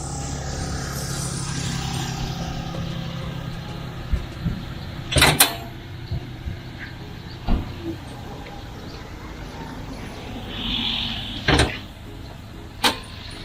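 A 2019 Toyota Rush with automatic transmission idles quietly and steadily, a low even hum running throughout, broken by a few sharp knocks and clunks near the car.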